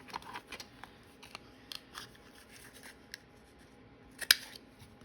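Scissors snip through brown paper bag in a series of short, crisp cuts with a rustle of paper between them, close and fairly quiet, with one sharper snip near the end.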